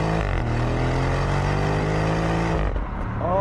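A 2024 Porsche Cayenne S with a V8 pulls away hard from a stop sign, its loud engine note climbing steadily for about two and a half seconds before a brief dip as the gear changes, then rising again.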